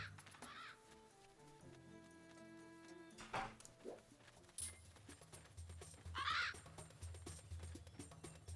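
A crow caws twice in the Zelda: Skyward Sword video game, two harsh calls a few seconds apart over soft game music and ambience.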